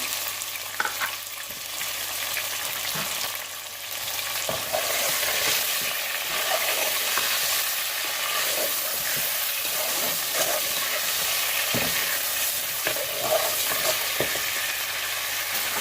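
Steady loud sizzling of chicken frying in a pan with tomato for chicken aloo pulao, with occasional stirring and scraping sounds throughout, close up.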